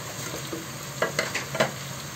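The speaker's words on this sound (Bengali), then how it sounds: "মশলাটা আর সবজিটা একটু নাড়া দিয়ে নিলাম কিছুক্ষণ" Spices and fresh vegetables stir-frying for bhuna khichuri, a steady close sizzle broken by a few scraping stirs of a spoon in the pot.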